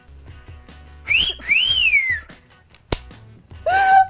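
A loud whistled cat call, made of rising and falling bursts with a sharp gap between them and a final swooping whistle, with faint chatter underneath.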